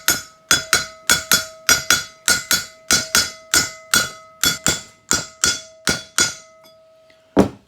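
A hammer drives a bearing into a landscape trailer hub through a 1 7/8 socket, ringing out about twenty loud, evenly paced metallic strikes up close, each with a short bright ring, then a pause and one final blow.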